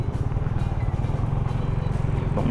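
A Suzuki Raider 150 motorcycle being ridden, a close steady engine drone with a rapid low pulsing beat, holding an even pitch throughout.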